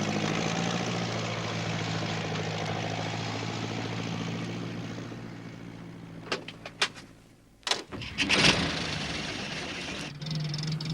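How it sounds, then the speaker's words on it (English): An engine drones steadily through the fog from a tractor driven by a farmer, a low continuous hum that carries on without pause, then gives way to a few sharp clunks and rattles near the end before the engine hum returns. "It was Alf Thompson on his tractor."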